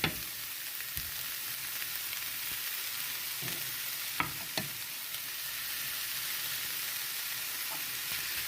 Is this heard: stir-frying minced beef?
yes